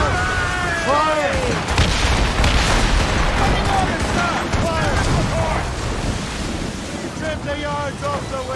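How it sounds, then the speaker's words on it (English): Mortar fire explodes in Assassin's Creed Rogue during a naval battle at sea, with deep booms rolling over heavy wind and surf while shouted voices and whistling tones cut through. "They're firing mortars!"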